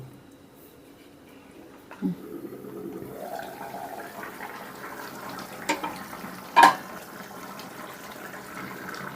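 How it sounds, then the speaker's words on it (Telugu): Half a litre of water poured into a cooking curry of cucumber and drumstick pieces, a brief gushing pour with a few clinks, fairly faint and close. "ఇప్పుడు ఒక అర లీటర్ వాటర్ కూడా యాడ్ చేసుకుందాం"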